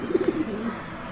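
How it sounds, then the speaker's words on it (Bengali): Pet pigeons kept indoors in a house give a few soft, close coos in quick succession, then fall quiet against a low room hiss. "দেখেন আমার 3টা কবুতর আছে, সবগুলো আমি ঘরে পালি"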